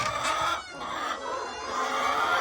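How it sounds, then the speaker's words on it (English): Guinea fowl clucking and chattering continuously, several birds close by, a busy overlapping racket with no talking. "Here are the guineas already in here."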